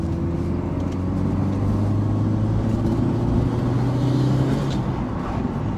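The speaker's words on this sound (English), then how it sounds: "the moment you put your foot down, you can hear the intake sucking in the air and the forged blow-off valve releasing it" Engine and intake of a JDM Subaru Impreza STI hatch with a 2.1-litre stroker making 420 bhp, a forged blow-off valve fitted, pulling hard under acceleration; steady loud low rumble with rising harmonic tones heard from inside the car, no talk.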